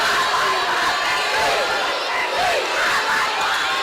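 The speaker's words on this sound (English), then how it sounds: "Crowd getting into this one now." A packed high school basketball gym roars as the crowd and student section cheer and shout, a dense, loud, continuous wall of voices with no break.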